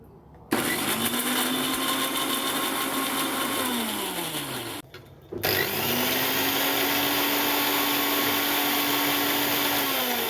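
An electric mixer grinder whirs loudly as it grinds garlic, green chillies and ginger with a little water into a smooth paste, its motor pitch sagging under load, cutting out briefly, then spinning up again and running steadily.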